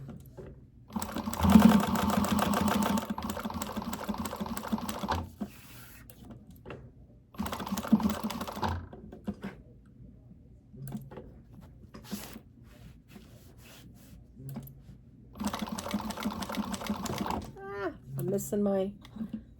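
A sewing machine stitches a zipper placket on a fabric bag 1/8 inch from the edge, running in several bursts of a few seconds separated by pauses, with a person talking quietly between runs.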